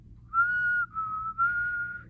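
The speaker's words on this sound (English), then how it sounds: "Can you whistle?" A person whistles alone and clearly in a children's storytime about dragons: three sustained, bright whistled phrases, the last pitched slightly higher, with brief gaps between them.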